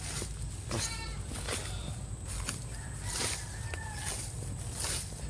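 Several goats bleat in short, wavering cries over a steady outdoor hiss, some calls close and others farther off.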